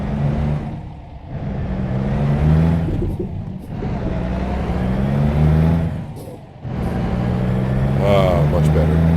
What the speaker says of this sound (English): Really not good for the suspension driving that fast on a dirt road, though.